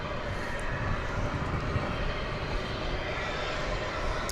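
Aircraft engine noise from a Cessna 208B Super Cargo Master at an airport at night, a steady, loud, broadband drone with no pauses.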